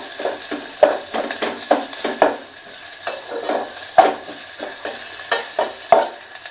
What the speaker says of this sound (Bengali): পেঁয়াজ রসুনগুলো দিয়ে দিলাম।